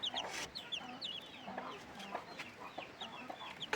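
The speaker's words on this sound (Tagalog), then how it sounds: "May manok din na kasama." Chickens cluck softly and intermittently at a distance, scattered short calls over a low background hum.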